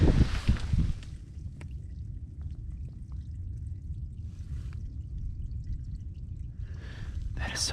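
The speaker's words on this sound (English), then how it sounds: "I hear water running." Water runs and trickles steadily in the background inside the bunkers on Otay Mountain, a soft continuous wash, after a short burst of louder noise at the beginning.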